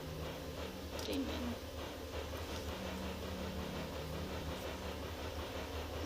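A moving train in a farming video game, a low steady rumble with faint rhythmic rolling and a brief high metallic squeal near the start, continuous and moderately quiet.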